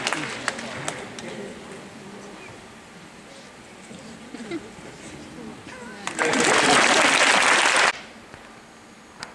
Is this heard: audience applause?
yes